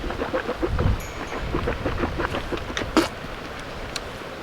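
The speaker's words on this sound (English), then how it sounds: "the rain has just come out of nowhere" Steady rain falls outdoors as a dense, even hiss with scattered patters and gusty rumble, continuous and fairly loud with no talk over it.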